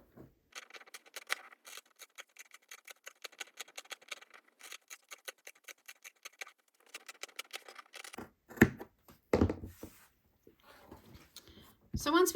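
Scissors cutting around a fabric circle for a round mug rug, a quiet rapid run of crisp snips in close succession, then sparse handling noises and brief talk.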